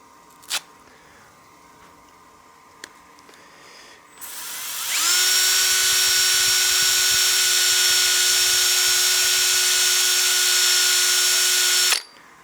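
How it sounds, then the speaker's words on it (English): A lathe with a power sander works the rim of a turned wooden coin box: after faint clicks, a high whining drill-like tone ramps up and holds steady and loud for about seven seconds, then cuts off abruptly. "Sand the rim."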